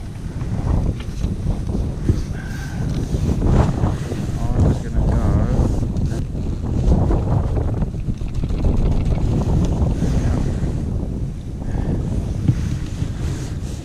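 Strong wind buffets the microphone at a fishing lake, a continuous roaring rumble with gusting swells and hiss throughout, no voices.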